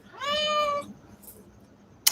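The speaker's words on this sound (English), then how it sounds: "My cat Chloe here wanted some attention" Chloe the cat lets out one clear, drawn-out meow up close, then quiet with a small click at the end.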